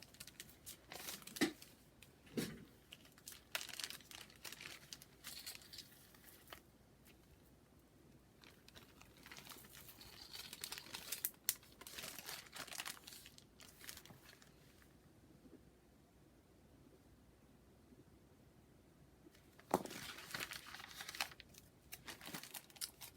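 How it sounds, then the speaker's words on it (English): A small plastic bag crinkling as it is handled during a live jewelry sale, with scattered crisp rustles and crunches coming in bursts close to the microphone, quiet between handlings. "I'll grab my little plastic bag over here."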